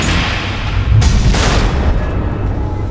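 Missiles explode in the video game Batman: The Enemy Within, a loud, rumbling boom with a sharp crack midway and heavy low-end roar sustained throughout.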